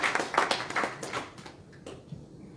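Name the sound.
audience clapping for Akufo-Addo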